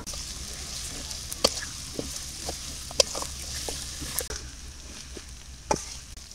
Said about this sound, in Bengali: পেঁয়াজ রসুন আর জিরা তালা হয়ে গেছে